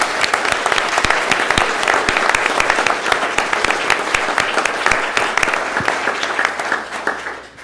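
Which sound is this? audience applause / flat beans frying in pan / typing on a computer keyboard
audience applause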